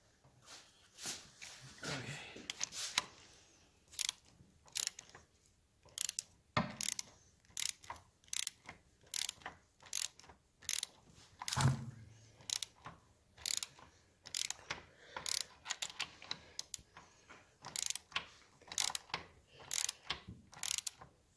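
A wrench tightens a bolt on a 1971 Triumph Tiger 650 motorcycle during restoration, giving bursts of quick ratcheting clicks with pauses between them, close and moderately quiet.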